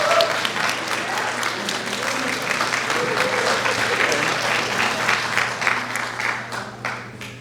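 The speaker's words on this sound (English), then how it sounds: "I'd like the grads to do a round of applause and give a wave to your family, friends, and" Graduates at a commencement celebration break into steady, fairly close applause, a dense ongoing patter of many hands clapping with a faint murmur of crowd beneath it.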